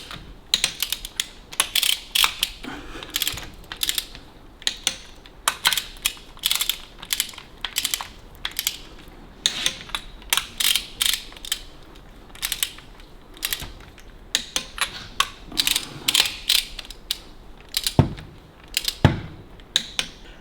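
A ratchet wrench tightens the cylinder head bolts of a 1943 Railton to 40 pounds in sequence, giving bursts of quick, dry clicking strokes with short pauses in between, close and distinct.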